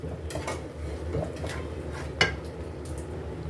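Metal spoon working through semolina halwa with raisins and peanuts in a pan, giving soft scraping and stirring with one sharp clink against the pan near the middle, close and moderately quiet.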